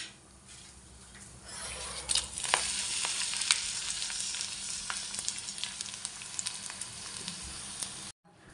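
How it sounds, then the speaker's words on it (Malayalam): Dried red chillies frying in hot oil with mustard seeds while an Indian stir-fry is prepared, giving a steady loud sizzle and crackle with a few sharp pops and the scrape of a stirring spoon, no talk. "നമ്മൾ കടുക് കൂട്ടിയിട്ടുണ്ട്. നമുക്ക് അതിനകത്തോട്ട് വറ്റൽമുളക് ഇട്ട് കൊടുക്കാം."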